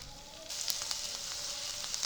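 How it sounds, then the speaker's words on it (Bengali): Chopped garlic dropped into hot oil in a wok, a soft hiss that rises after a brief pause and keeps crackling with small pops, fairly faint and close, no speech. "তেল গরম হয়ে গেছে দিয়ে দেব এক চামচ পরিমাণে রসুন কুচি"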